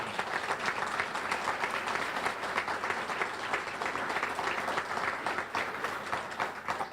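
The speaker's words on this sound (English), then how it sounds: "Let's give the singers a round of applause." Sustained audience applause for singers at a corporate service awards ceremony, a dense steady wash of many hands clapping together for the full stretch with no voices over it.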